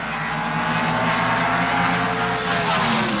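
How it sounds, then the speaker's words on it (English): A Pro Stock drag race pitting a Ford Mustang against a Chevrolet Monza gives a loud, sustained, unbroken engine roar that fills the whole moment, with no voices over it. "the classic Ford versus Chevrolet battle, the Monza of Iaconio, the Mustang of Nicholson"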